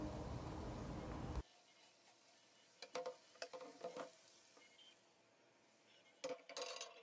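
Zucchini and cornmeal fritter in an oiled pan, a loud steady frying hiss that cuts off abruptly, followed by a quiet stretch broken by scattered clinks and scrapes of utensils against the pan.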